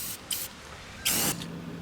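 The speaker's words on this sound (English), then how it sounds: "And I'm going to spray some of the top edge as well" Rust-Oleum spray paint hisses from an aerosol can onto the top metal edge of a van roof vent opening in two short bursts, the second longer and louder, close by.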